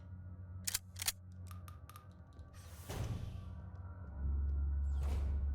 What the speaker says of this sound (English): Just going to reload our gun.